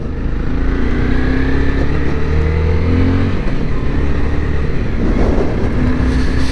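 Honda CBR motorcycle riding on a highway at sunset: a loud, close engine hum with shifting tonal lines as revs change, mixed with constant wind rush, no talk.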